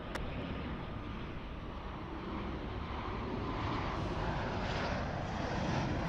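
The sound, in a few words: Qantas flight QF11 airliner on final approach at LAX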